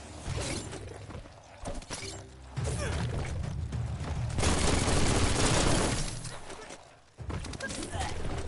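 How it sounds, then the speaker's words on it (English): Gunfire with bullets flying in Biomutant, a long dense rattle of shots and clattering impacts that swells to a loud sustained barrage mid-clip, then cuts off abruptly before resuming. "Bullets everywhere."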